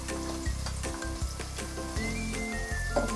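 Onions fry in a pan while chicken poha bhujing is being cooked, giving a continuous, fairly loud sizzle with occasional stirring, and no voices.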